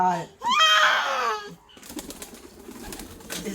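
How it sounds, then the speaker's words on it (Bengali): Pigeons coo around a home where ducks are also kept, a short bird call rising loud and close before fading into quieter background noise, with a person's voice present nearby. "আয় পায়রা, আয় আয় পায়রা,"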